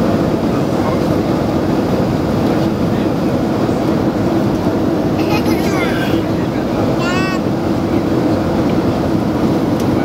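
Steady airplane cabin roar during a flight hums evenly and loudly throughout, with a couple of brief, faint high voices over the drone.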